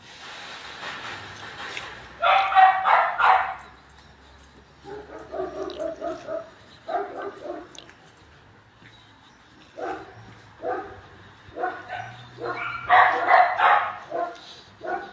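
Search-and-rescue dogs bark in a long series of close, sharp volleys, clusters of two to four barks coming in irregular bursts with brief lulls between.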